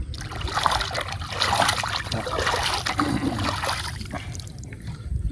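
Freshly caught river fish from the Sundarbans are rinsed in water, with a soft continuous trickling and gentle splashing close by, no speech.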